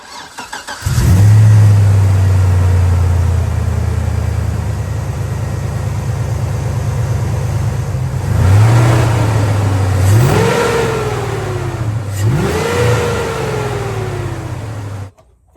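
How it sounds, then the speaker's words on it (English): A GMT800 pickup truck (1999–2007) engine cranks and catches on the first try, settling into a steady idle, then revs up sharply twice before dropping back, loud and close with no voices. "Crank this beast up and cross our fingers and hope we did everything correctly."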